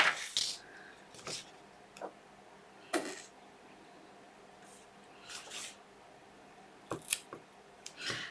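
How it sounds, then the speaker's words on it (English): Scissors or a blade cutting chipboard for a handmade mini album, heard as scattered, close, quiet snips and clicks with long pauses between them. "Okay, so cut your chipboard."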